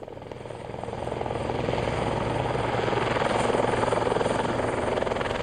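A helicopter drones steadily with rapid rotor thumping, growing louder over the first second and then holding a constant, close roar.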